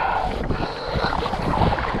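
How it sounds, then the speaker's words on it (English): Wind buffets the microphone while kayaking on a lake, a close, rough rumbling gust with faint water sounds underneath and no talking. "A bit windy out today,"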